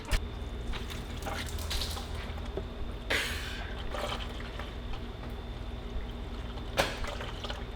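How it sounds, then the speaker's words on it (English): Coolant draining out of a Ferrari F355 engine in a workshop, a steady close trickle and splatter with a few sharper splashes and knocks, no talking. "We're gonna do our best not to get totally splashed with sticky, gross coolant."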